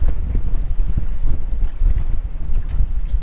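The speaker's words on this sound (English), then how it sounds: "And that wind is ripping and we're not moving." Strong wind roars steadily over a boat held in place on open water by a Minn Kota Terrova 12-volt trolling motor's spot lock, with heavy low buffeting and microphone wind noise throughout.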